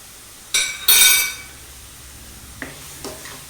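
A spoon stirs onions in a frying pan after salt is added, giving two sharp metallic scrapes and clinks against the pan close by, then a couple of faint taps, with no talking.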